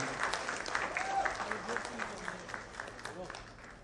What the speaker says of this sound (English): let's have a huge round of applause for Varsha ji.